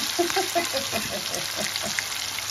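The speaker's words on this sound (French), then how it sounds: "dans l'huile, je mets l'oignon, du poivre, du poivron" Onion and bell pepper frying in hot oil in a home kitchen pan, a steady soft sizzle with small crackles and pops throughout, moderately close and without talk.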